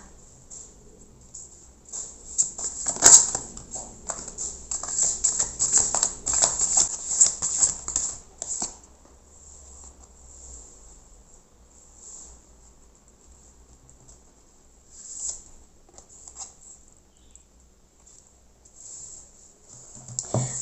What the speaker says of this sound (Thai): เวลาจัดไพ่นิดนึงนะคะ